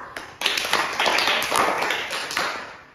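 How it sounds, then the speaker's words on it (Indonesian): A small group in a group activity therapy session claps for the observer, sharp overlapping hand claps starting abruptly and thinning out toward the end, fairly close. "Beri tepuk tangan untuk observer kita."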